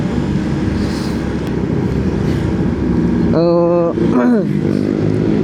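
Yamaha Fazzio Lux 2023 scooter riding along a road, its steady engine drone and wind rush continuous and close, with a brief horn-like tonal blare near the end.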